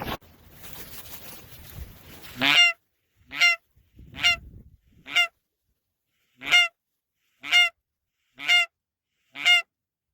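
Geese honk in a wetland during an early-season goose hunt, first over a stretch of windy rumble, then in a series of about eight loud, sharp calls spaced roughly a second apart.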